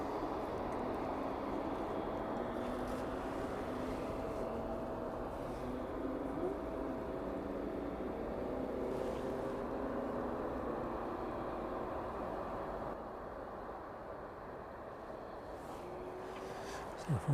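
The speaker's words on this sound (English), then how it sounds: "motorbikes taking the most of that noise this evening" Motorbikes pass near a runway at East Midlands Airport in the evening, a steady broad engine drone with rising and falling tones that holds for the whole stretch and eases slightly near the end.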